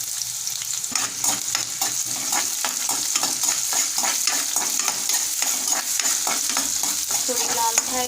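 Onions fry in a pan with mustard seeds and cumin, a steady close sizzle broken by repeated rhythmic stirring scrapes; no one speaks.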